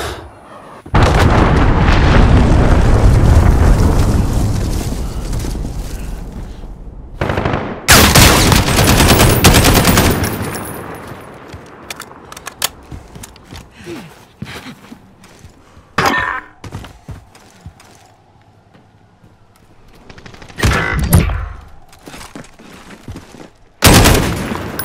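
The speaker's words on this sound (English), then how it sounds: "Cruise missile incoming." A cruise missile strike in Call of Duty: Modern Warfare lands as a huge rumbling explosion, then a second blast. Scattered gunshots and smaller booms follow, loud and close, with no talking.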